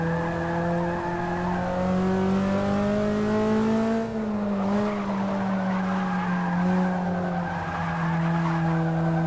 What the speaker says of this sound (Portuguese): deixava vocês ouvir um pouquinho do barulho do motor